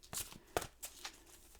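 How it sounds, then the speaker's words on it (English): Angel Oracle cards being shuffled by hand, a few quick papery riffles and flicks over about a second and a half, fairly quiet and close with no talking. "I'm going to shuffle and deal you an Angel Oracle card"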